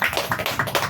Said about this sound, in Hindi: एक बार दोबारा ताली